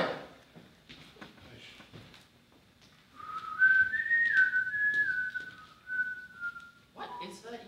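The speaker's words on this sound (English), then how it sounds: "What is that you're whistling?" A person whistles a melodic tune from The Music Man, a bright sustained line running for several seconds in the middle, with a few quiet words before and talk resuming at the end.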